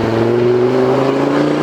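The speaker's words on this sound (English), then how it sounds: "It kind of sounds like a DSG fart, honestly." A Volvo C30 T5 exhaust note as the driver lifts off the throttle: a steady, close engine drone with no voices.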